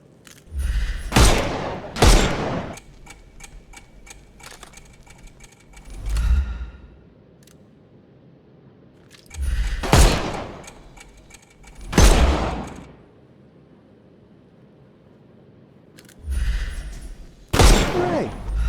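Game gunfire in Sherlock Holmes Chapter One, shooting armor off enemies: several separate loud shots and short bursts spread out with pauses between them, each with crisp impacts and some rattling detail.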